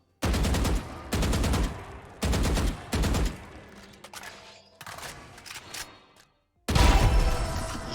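Forsaken weapon skin in a shooter video game firing rapid automatic bursts in several loud, close strings, separated by brief gaps, followed by quieter mechanical clicks and a final heavy burst of finisher effect.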